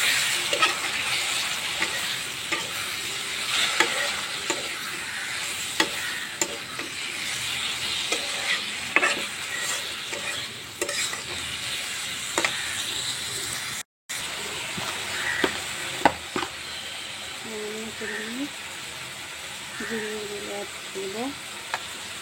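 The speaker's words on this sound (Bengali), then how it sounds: "চিংড়ি মাছগুলো প্রায় ভাজা ভাজা হয়ে এসেছে।" Prawns sizzle steadily in a hot pan as they are stirred, with scraping clicks over continuous frying hiss, a momentary break midway, and a faint voice near the end.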